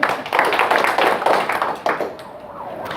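An audience at a public lecture on feng shui claps together in a loud, dense burst with uneven pulses that thins out toward the end.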